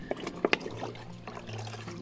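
Water poured from a container onto a small village test-garden bed, a soft brief splash and trickle with a few sharper spatters, fairly close and faint, no talk over it.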